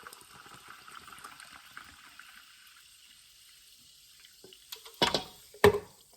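Sparkling water poured into a bowl of plant-based pancake batter, a faint fizzing pour that ends in two short, louder splashy bursts.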